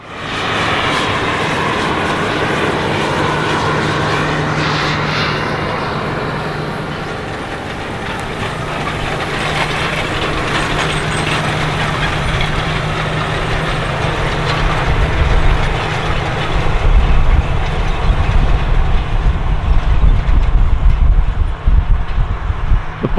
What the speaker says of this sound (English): now we'll see the field cultivator run by and see the seed bed it's preparing